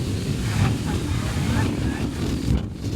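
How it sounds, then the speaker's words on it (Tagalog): Strong wind roars and buffets the microphone in a continuous, heavy rumble, with a faint voice briefly audible beneath it, outdoors in Taiwan. "Sobrang lakas ng hangin, nakakatakot."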